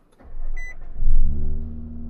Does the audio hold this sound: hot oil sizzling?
no